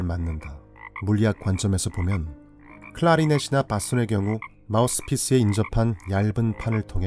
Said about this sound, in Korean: 개구리의 개굴개굴 울음소리도 시끄럽게 울려 퍼진다